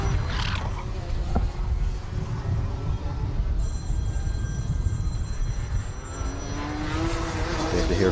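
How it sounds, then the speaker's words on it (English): A phone rings with a thin repeating electronic trill amid the loud, continuous drone of racing karts at a kart club track, partly masked by engine roar and a commentator's voice. "Hear a phone ringing in here."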